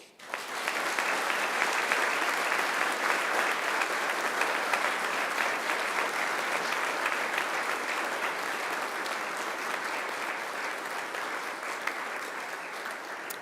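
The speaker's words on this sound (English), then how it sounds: "And now it's time to give them a mighty round of applause." Graduates at a university graduation ceremony give their families and friends a long, sustained round of applause, a dense, loud wash of many hands clapping that holds steady from start to finish.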